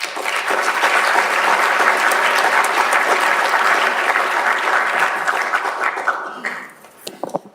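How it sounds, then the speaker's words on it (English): An audience at a high-level research forum applauds steadily for about six seconds, the clapping dense and full, then tapering off into a few scattered claps. "please join me in thanking our panellists today"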